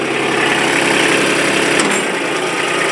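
A Kubota RTV900 utility vehicle's diesel engine runs steadily close by, a loud continuous rumble with constant mechanical vibration and no talking.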